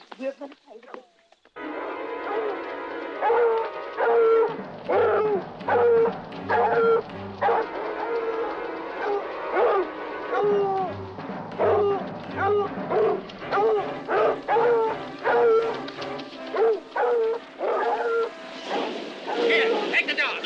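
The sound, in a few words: dogs barking on a hunt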